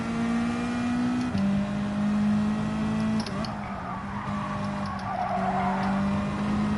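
Race car tires skid and squeal in Gran Turismo 7, a steady engine drone with shifting tonal whines carrying through, the tire scrub rising into a hissing smear toward the end, no voices.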